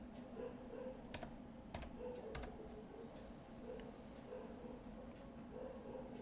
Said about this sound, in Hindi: मैं जस्ट टाइप कर देता हूँ यहाँ पर